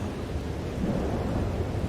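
Thunderstorm in the video game Life is Strange: Double Exposure: a steady, loud low rumble of thunder with rain-like wash, continuous across two seconds with no voices.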